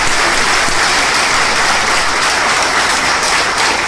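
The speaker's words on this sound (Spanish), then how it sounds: "Allí decidimos lo mismo con Patricia Burles, que también está acá y pide un aplauso." A large crowd at a political party congress bursts into loud, dense, continuous applause for Patricia Burles, filling the hall without pause.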